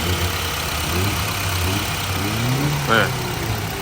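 A Honda car engine idles steadily with a low, even hum, holding a smooth rumble throughout with no revving.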